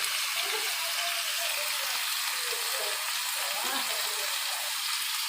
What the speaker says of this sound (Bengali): সবজিগুলো কড়াইতে দিয়ে দিচ্ছি, তেলটা গরম হয়ে গেছে।